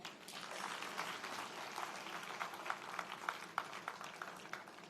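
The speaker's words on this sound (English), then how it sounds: "Audience, kindly be generous in the applause." Convocation audience applauding steadily, a soft, distant wash of many hands clapping with scattered sharper claps, alone with no voices.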